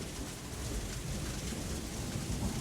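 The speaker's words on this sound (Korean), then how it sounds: "억수같이 쏟아지는 빗소리" Heavy rain pours down in a dense, continuous roar, steady and loud throughout with no pauses.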